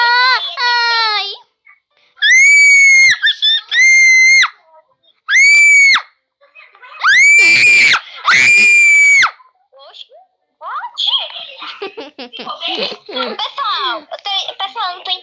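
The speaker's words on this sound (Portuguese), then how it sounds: "não tô entendendo nada que essa menina tá gritando" A girl screams repeatedly while playing the Roblox game Tower of Hell, with loud, high-pitched shrieks in bursts separated by short pauses, then shaky, crying-like vocalizing toward the end.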